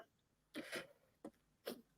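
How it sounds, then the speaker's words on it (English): A person clears their throat with a few short, close, rough bursts in quick succession, fairly quiet, with no talk around them. "let me clear my throat."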